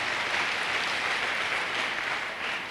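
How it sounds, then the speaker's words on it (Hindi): Audience applause at an MLM motivational success seminar in India, a dense, steady wash of clapping from a large crowd, sustained and even throughout with no voices on top. "एक बार जोरदार तालियां होनी चाहिए इसके लिए।"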